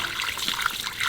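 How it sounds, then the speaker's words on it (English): Water poured into a patio drain, a continuous close splashing and gurgling wash with no voices. "let's pour some water in"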